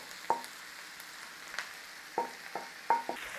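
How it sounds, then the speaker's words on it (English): Minced beef frying with onions in a pot, a soft steady sizzle broken by four or five sharp clicks of a utensil as the mince is broken up, close and with no speech. "Start breaking your mince down in there with your onions."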